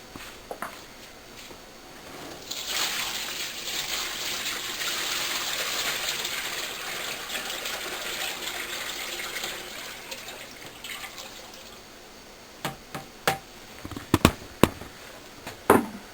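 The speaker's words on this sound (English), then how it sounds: "you would fill your GT205 tank with your water, which I shall do right now, slowly but surely" Water pours slowly and steadily into a GT205 grow kit tank, a continuous splashing gush for about ten seconds, followed by a few sharp knocks and clatters near the end.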